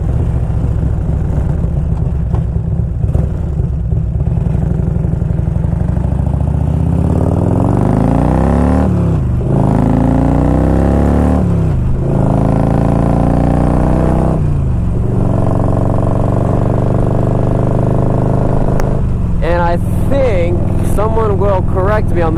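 A 1992 Harley-Davidson Electra Glide Sport with an Evo engine rumbles loudly while riding, its exhaust note rising and falling through several gear changes, under someone talking throughout.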